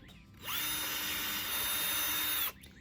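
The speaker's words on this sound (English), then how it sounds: "So I got my 4 pilot holes drilled" A power drill bores pilot holes into pallet wood for an Adirondack chair, running as one steady, loud whine of about two seconds with a sharp start and stop, close by and with no talk.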